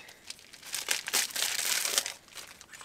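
Plastic packaging of a moped piston kit for a Mobylette engine being opened, a burst of close crinkling and crumpling lasting a couple of seconds, alone without talk.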